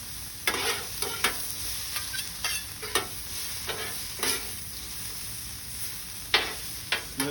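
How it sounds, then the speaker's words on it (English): Asparagus and onions are stirred together on a hot griddle: a continuous low sizzle punctuated by repeated sharp spatula scrapes and taps at an uneven pace, close up with no talking. "So now you go ahead and mix them with the onions."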